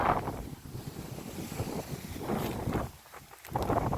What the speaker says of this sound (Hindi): पानी बरसन लगो है बहुत तेज